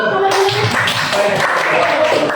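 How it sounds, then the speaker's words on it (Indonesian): A classroom group gives a continuous round of applause during a guidance lesson. The clapping is dense and steady, with a faint voice underneath. "Beri tepuk tangan dulu"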